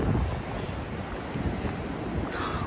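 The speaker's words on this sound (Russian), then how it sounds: "Волны сегодня." Sea waves and gusty wind roar at a coastal lookout in Gangneung, Korea, a dense, loud, steady wash of surf and wind buffeting close to the microphone, with no talking.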